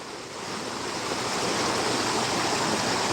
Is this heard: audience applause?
no